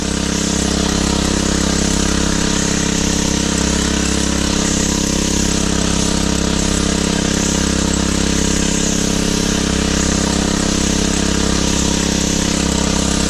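A motorcycle engine runs slowly at a steady low idle, close and constant throughout with a continuous even drone, no talking over it.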